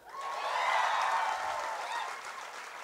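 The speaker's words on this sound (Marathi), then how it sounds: "आता टाळ्या वाजवा" Studio audience at a Marathi comedy interaction show breaks into applause, a smooth steady wash of clapping with a thin whistle-like tone riding on top, swelling early and holding for about three seconds.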